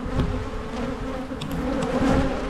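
Honey bees buzz steadily at an open beehive during a hive inspection, a dense, close, continuous drone with no voices.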